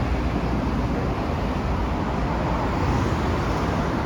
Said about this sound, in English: This is a highway.